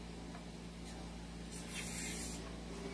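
A short spray of oil lubricant hisses onto the open slide of a Beretta pistol. The burst is close and fairly quiet, rising for about a second over a low background hum.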